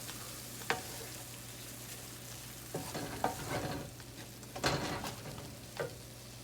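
A chicken meat mixture for quesadillas sautés in a pan, its low continuous sizzle broken by repeated scrapes and clicks of a utensil pushing the food around.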